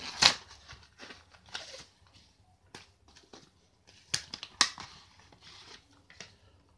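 A parcel of metal construction sets from AliExpress is unpacked, giving close, sharp bursts of crinkling packaging, tearing and rustling separated by short quiet gaps.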